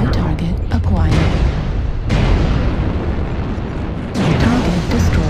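Explosions of a destroyed target in MechWarrior Online, heavy rumbling booms in a few successive loud bursts over continuous battle noise.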